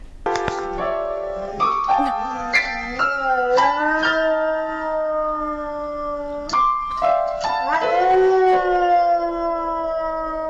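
A dog howls in long, wavering, rising and falling tones, close and loud, while piano notes are struck beneath and between the howls.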